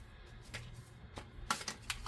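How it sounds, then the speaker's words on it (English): Soft papery riffling and flicking of tarot cards being shuffled, a few quick bursts close by in a quiet room. "It's very hard to shuffle over these ones."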